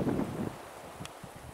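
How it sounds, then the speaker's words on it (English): Strong gusting wind buffeting the microphone on an outdoor hiking trail, a loud rumbling burst at first that eases into lower, uneven rustling. "Man, that wind is blowing so hard."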